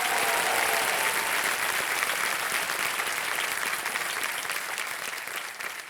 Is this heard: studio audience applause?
yes